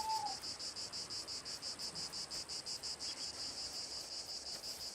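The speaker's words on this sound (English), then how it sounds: "is it weird that I love the sound of cicadas?" Cicadas buzz in a rapid pulsing rhythm, a steady high-pitched drone of evenly spaced throbs carrying on throughout, fairly faint and alone with no voices.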